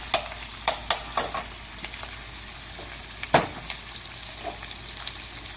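Shrimp frying in melted butter for shrimp scampi: a steady soft sizzle, punctuated by a few sharp clinks and stirring knocks of a utensil in the pan.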